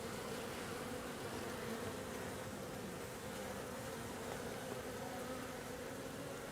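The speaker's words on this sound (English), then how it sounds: "there's an audible buzz, the amount of bees." Honeybees buzz in an open hive, a dense steady drone of many wings, close and continuous with no voices over it.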